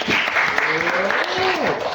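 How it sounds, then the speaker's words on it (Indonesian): A classroom group claps together in steady dense applause throughout, with a voice speaking briefly over the clapping. "Kita beri tepuk tangan terlebih dahulu."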